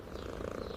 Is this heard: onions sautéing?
no